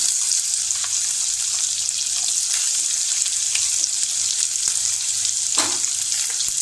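One onion and four green chilies sauté in a pan, giving a steady, close, bright sizzling hiss that runs unbroken throughout, with a faint scrape partway through.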